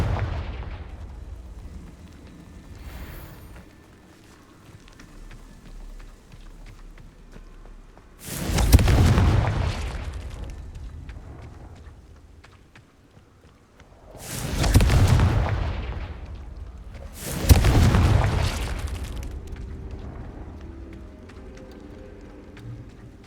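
Confringo blasting spells detonate in Hogwarts Legacy: three loud, booming explosions with rumbling tails, spaced several seconds apart, over quieter game ambience.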